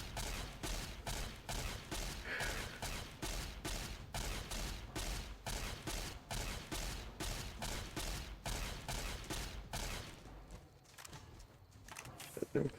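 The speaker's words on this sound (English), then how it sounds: "Laser rifle." A laser rifle fires in Fallout: New Vegas as an evenly spaced run of sharp, loud shots, roughly two per second, that stops abruptly and leaves a quieter tail with a couple of faint clicks.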